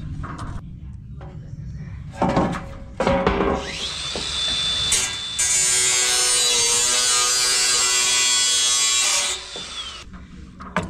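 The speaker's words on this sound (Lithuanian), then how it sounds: "Na va, atsipjauju su bulgarkė." Angle grinder cutting a metal rain gutter: a high, loud whining grind holding steady for several seconds between some clattering handling noises, close by.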